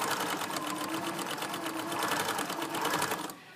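Sewing machine stitching a hem in fabric, a fast steady mechanical whir with rapid needle pulses, close and loud, running continuously before stopping abruptly near the end.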